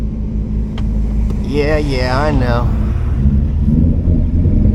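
An 800whp single-turbo manual Mustang 5.0 drones with a deep, steady, loud engine rumble from inside the car, and someone speaks briefly over it.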